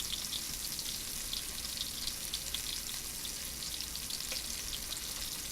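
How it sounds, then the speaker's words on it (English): Chopped onions frying in a pan of caramelized fat left from a browned pot roast, giving a steady, close, continuous sizzle and crackle without any talking. "So now we're going to add our onions."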